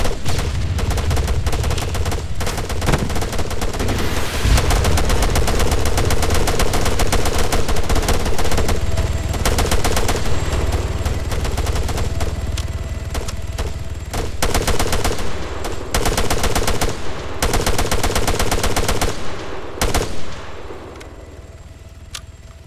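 Sustained gunfire in the Arma 3 video game: dense, rapid automatic bursts and heavy reports rattling almost continuously, loud and close, with brief pauses before the shooting tapers off at the end.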